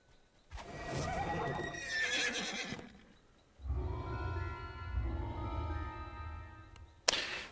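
Horse neighing and clip-clopping hooves in the Dungeons and Dragons Online video game: a loud whinny, then steady hoofbeats with a drawn-out tonal call over them, ending in a sharp burst.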